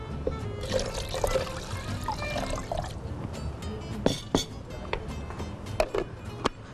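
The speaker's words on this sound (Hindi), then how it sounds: "अब हस्बे ज़रूरत इसमें मैं पानी डाल दूँगी" Water poured into a thick, softened date drink mixture, a trickling pour under a voice, followed by a few sharp clinks and knocks of utensils.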